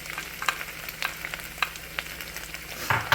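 Hamburger meat frying with diced provolone cheese, stirred in a pan: a steady close sizzle broken by regular scraping and clicking strokes of the utensil, with no talking.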